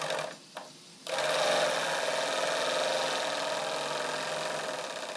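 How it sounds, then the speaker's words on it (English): A model steam engine runs steadily after its throttle valve is opened, driving a boiler feed pump with a fast, even mechanical chatter that continues without pause once it starts after a brief quieter moment. "I'm now going to turn the steam engine on by moving the throttle valve."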